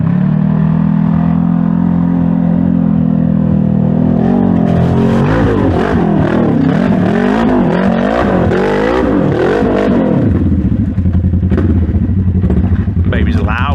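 A Polaris RS1 side-by-side sits on an off-road trail, its engine idling low, then revving hard in rising and falling surges before settling back. The sound is loud and close, with voices faintly present in the background.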